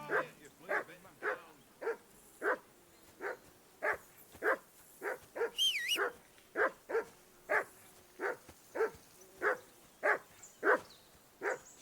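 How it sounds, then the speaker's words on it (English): Dog barking in the Kingdom Come Deliverance 2 video game, a long steady series of evenly spaced, moderately close barks, about two per second, with a brief whistle-like sound midway. "You know, Henry, call that dog to heel."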